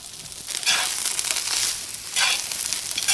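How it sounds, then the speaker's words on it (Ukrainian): Cabbage fries in oil in a hot cauldron over medium heat, sizzling and crackling steadily, with the hiss swelling in two louder waves; no voices. "Капусточка смажиться, я її посолю"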